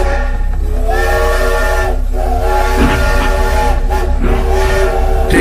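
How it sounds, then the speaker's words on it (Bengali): A departing train's steam whistle, loud and sustained with a harmonic tone, over a constant low hiss and rumble of the moving train. "ট্রেন ছেড়ে দিয়ে"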